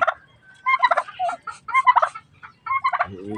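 Rhode Island chickens call in loud, close, gobble-like bursts, several short runs of throaty notes separated by brief silences.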